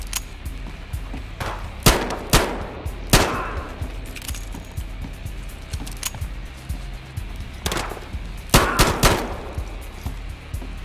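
Gunfire in the video game Battlefield: Hardline, scattered sharp shots and short bursts over a low background rumble, some close, with gaps between.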